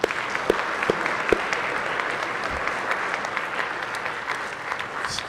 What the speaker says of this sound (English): Can you give them applause?